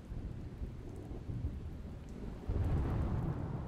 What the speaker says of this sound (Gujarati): વડિયા અને પીપાવાવ પોર્ટ વિસ્તારમાં ભારે પવન સાથે ધોધમાર વરસાદ.